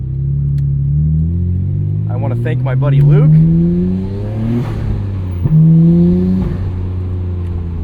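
A 1999 Nissan Skyline R34 GT-R engine pulls strongly through rising revs while driving, dipping between gear changes and climbing again, loud and close under someone talking.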